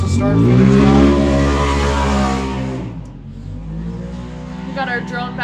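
A turbocharged UTV race car crosses the start-finish line in a desert race near Powell, Wyoming. The engine roars loudly up close, then fades away, with a commentator talking over it.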